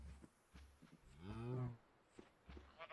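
Minecraft cows give a drawn-out, wavering moo at moderate level, with soft game footsteps and small thuds around it and no voices.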